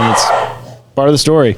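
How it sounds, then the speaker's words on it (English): A dog barks a couple of times nearby, loud, right after a voice finishes speaking. "Pardon the dog, as you may have heard."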